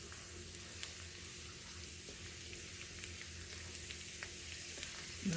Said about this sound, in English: All right, so we're still stir frying this.